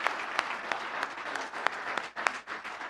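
A church congregation claps together in a dense burst of applause, with a few sharper individual claps standing out, steady throughout and briefly dipping near the end.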